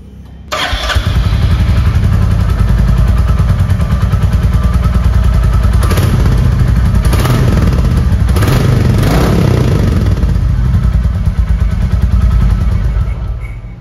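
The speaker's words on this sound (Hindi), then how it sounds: "ये क्लासिक का एग्जॉस्ट नोट है।" A Royal Enfield Classic 350 motorcycle starts and settles into a loud, close, steady thumping exhaust note, with a few brief blips of throttle partway through.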